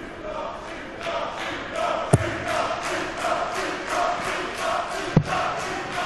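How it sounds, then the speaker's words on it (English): A home crowd in a sport hall chants rhythmically in waves throughout a 2015 European Darts Trophy first-round match, with two sharp thuds cutting through the steady echoing roar. "Oh, the crowd are doing their best. Chant of Martin echoing around the sport hall here."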